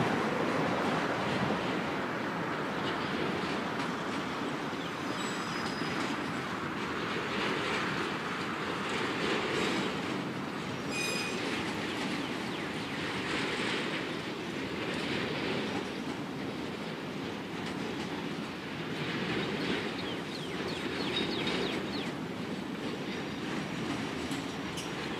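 Norfolk Southern freight train hauling autoracks, among them a Conrail rack with a Trailer Train logo and an all-yellow Canadian Pacific rack, rolls past close by in a steady, loud rumble with rhythmic wheel clatter and brief high squeals.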